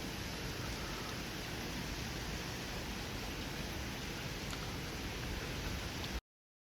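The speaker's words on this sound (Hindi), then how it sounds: "ये देखो पानी आ रहा है पूरा ऊपर से। आपको आवाज़ आ रही होगी" Steady rushing water pouring down from a mountain, a constant broadband roar that stays even throughout and stops abruptly near the end.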